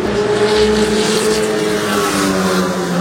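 F4 race cars speed past at a racing event, a loud, steady engine roar with whining tones that slowly slide lower as the cars pass, heard from nearby with no talking.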